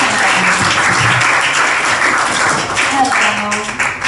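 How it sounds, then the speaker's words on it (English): Audience at an open mic night in Czarny Kot applauding the host, a dense, steady wash of clapping that fills the whole stretch at close range. "Come on, give up some applause for Ben too."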